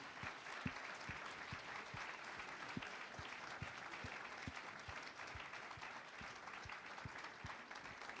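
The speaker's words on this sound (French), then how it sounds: "je voudrais vraiment que vous applaudissiez très fort tous ces très grands professionnels" An audience at an awards ceremony applauds the professionals of the year, producing faint, steady, continuous clapping with soft, regular low thumps underneath.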